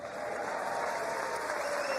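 An audience applauds during a televised speech, steady dense clapping from a large crowd throughout, heard at a distance with no pauses.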